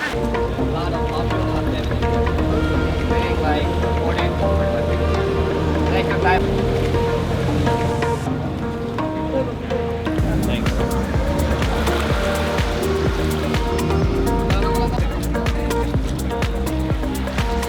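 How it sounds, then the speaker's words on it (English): A boat engine drones steadily over rushing sea water and wind, loud and continuous, with people talking in the background, on an island-hopping tour boat off El Nido, Philippines. "Boats are starting to take their own separate routes"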